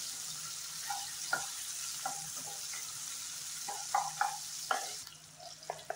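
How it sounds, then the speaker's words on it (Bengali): Chopped ginger frying in a pan over low heat for a matar paneer and cauliflower dish, a faint steady sizzle with repeated clinks and scrapes of stirring. "দিয়ে দিচ্ছি আদা কুচি।"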